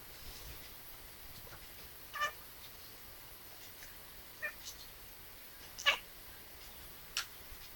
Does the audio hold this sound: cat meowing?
yes